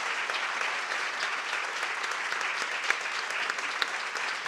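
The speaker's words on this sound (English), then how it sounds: "I think we can all give a round of applause to our panelists for inspiring us" An audience at a conference panel discussion applauds the panelists with dense, sustained clapping that holds at an even level throughout.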